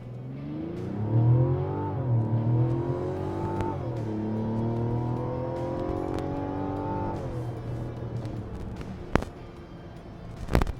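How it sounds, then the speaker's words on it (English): A 2024 Mazda CX-90 with its new engine does a launch-control start, its engine note climbing loud and steady through several rising gear pulls with a deep exhaust, then easing off, followed by a couple of sharp knocks near the end. "Let's do a quick launch control to test out this new engine."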